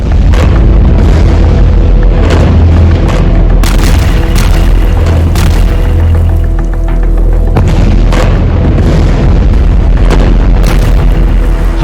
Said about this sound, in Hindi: धमाके पर धमाके हो रहे हैं